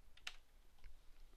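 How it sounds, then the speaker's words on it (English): Typing on a computer keyboard while setting up a custom layout in Blender: a brief, quiet burst of a few key taps over low background hiss, no talking. "in the box here, I'm going to type"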